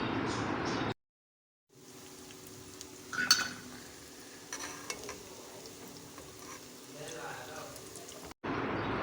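Pakoras fry gently in oil on moderate heat for kadhi pakora, giving a soft, continuous crackling sizzle with occasional louder spatters, bracketed by short bursts of noise at the start and end.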